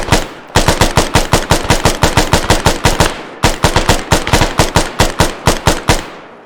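Automatic machine gun fire in the ArmA 3 Cold War Rearmed campaign: two long, rapid bursts of loud, sharp shots, separated by a short break near the middle.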